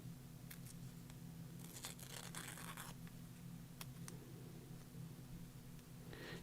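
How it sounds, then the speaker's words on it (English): Homemade washi tape being torn into small strips: a few faint, brief ripping and crinkling sounds over a steady low hum, with no talking. "Tearing this in little strips."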